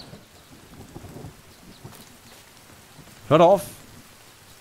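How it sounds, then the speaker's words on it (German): Rain and a burst of thunder in The Forest, a steady wash of rainfall with a short loud rumble near the end, while someone speaks German over it. "jetzt muss es anfangen zu regnen"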